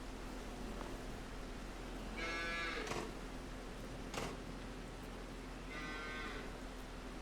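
Cattle in a cow shed in Farming Simulator 22 give two drawn-out moos a few seconds apart, fairly faint over a steady hiss, with a couple of soft knocks between them.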